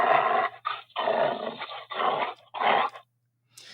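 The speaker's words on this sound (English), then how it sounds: "So here's another one, dog growling." A robot toy dog plays a recorded growl through its small speaker, in five rough, snarling bursts of about half a second each with short gaps between them, loud and close, with no talk.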